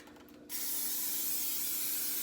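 Cooking spray can hissing onto a baking dish, a single sustained spray bursting in after a brief quiet moment and holding steady to the end.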